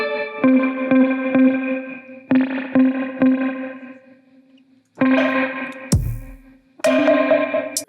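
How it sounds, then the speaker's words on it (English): A Fender Telecaster electric guitar run through a surf preset in Logic, playing twangy repeated chords and notes drenched in echo and reverb, loud and close, with a brief pause and a swooshing sweep before the chords return. "the guitar is just same guitar I always use, Fender Telecaster. I just put it through a surf preset in Logic"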